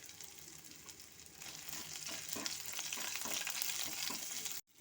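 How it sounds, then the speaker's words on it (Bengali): Grated ginger and slit green chillies frying in oil over medium heat, a soft, continuous sizzle with faint bubbling that grows slightly, then cuts off briefly at the end. "আদা আর কাঁচা লঙ্কাটা একটু ভাজা ভাজা হয়ে গেছে।"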